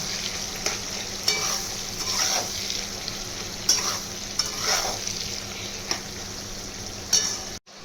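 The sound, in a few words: onion and capsicum frying in a pan with salt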